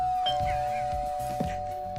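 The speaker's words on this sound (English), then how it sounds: "I think that's the doorbell." A doorbell rings with a single sustained chime tone, heard alone and fairly clear over faint background sounds.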